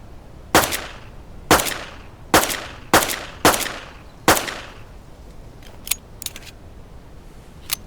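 Gunshots in the survival game Deadside, six loud sharp reports in an uneven sequence with short decaying tails, followed by a few fainter clicks and taps near the end.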